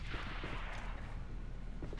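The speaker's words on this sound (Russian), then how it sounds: "Бросаю гранату." A grenade blast in the shooter A.V.A. Alliance of Valiant Arms lands as a loud, low, booming roar that decays while distant gunfire rattles on.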